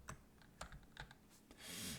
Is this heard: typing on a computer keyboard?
yes